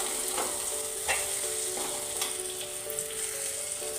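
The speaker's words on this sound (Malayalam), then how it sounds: "തക്കാളിയൊക്കെ നല്ല ഫ്രൈ ആയി വന്നിട്ടുണ്ട്" Chopped tomatoes fry in a pan for a homestyle crab curry, giving a steady close sizzle with a few light clinks of a spoon stirring, and no voices.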